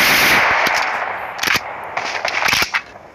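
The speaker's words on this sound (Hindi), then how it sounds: "फायरिंग की साउंड भी आ ही रही है स्टेडियम के अंदर से" Automatic gunfire in PUBG Lite near a stadium, loud rapid bursts with sharp cracks and ringing over a constant bright hiss, continuous for about three seconds.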